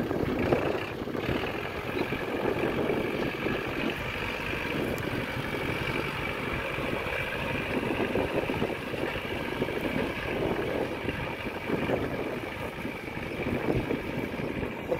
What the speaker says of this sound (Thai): ผมมาแต่หน้าก็เลยเห็นรถไถนะครับกำลังไถหุ้น